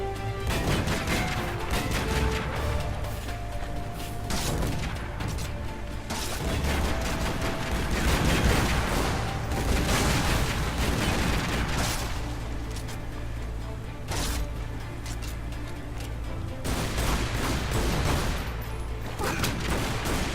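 Gunfire in Tomb Raider: Underworld crackles in dense, repeated bursts of shots and impacts, loud and close, with a few brief pauses between volleys, running throughout.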